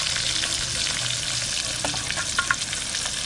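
Pieces of large Shol fish fry in hot oil, a steady bright sizzle with occasional sharper pops and stirring clinks, close and continuous with no talk.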